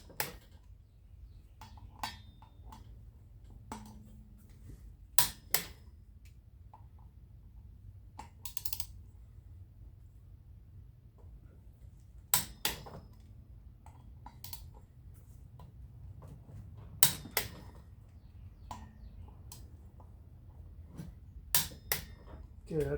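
Bolts being snugged down on the brake rotor of a Harley Sportster rear wheel, a scatter of sharp metallic clicks and taps from a wrench, irregularly spaced over a quiet background with faint speech.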